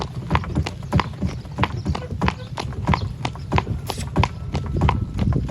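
Hooves clip-clop steadily on a hard surface, a close, rhythmic series of sharp clops from horses walking, with a voice briefly heard.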